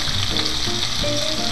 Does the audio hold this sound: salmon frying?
yes